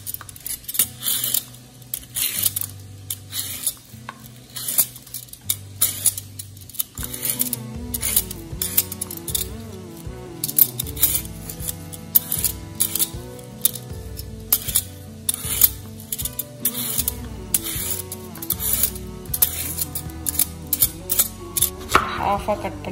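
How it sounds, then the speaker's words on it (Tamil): Raw banana being peeled with a hand peeler in a kitchen, repeated close scraping strokes in bursts with small knocks between, with brief talk partway through. "க்ளீனாக பீல் பண்ணுங்க"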